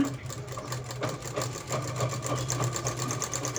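Sewing machine running steadily while double-stitching a blouse, with fast, even mechanical stitching pulses and a continuous motor hum, close and alone with no talking.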